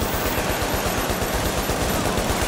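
Dense, continuous automatic gunfire in The Division, a steady rapid rhythm of loud overlapping shots filling the whole stretch with no talk.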